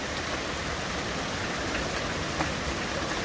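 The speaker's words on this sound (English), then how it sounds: "It has been downpour torrential rain." Torrential downpour in the Eagle Mountain neighborhood during a flash flood, a dense, steady roar of heavy rain with no voices.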